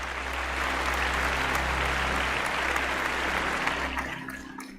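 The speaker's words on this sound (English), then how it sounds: "And a big round of applause for Ray." A studio audience gives a guest a big round of applause: dense, continuous clapping held steady for several seconds before tapering off.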